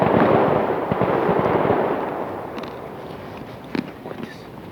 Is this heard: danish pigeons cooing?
no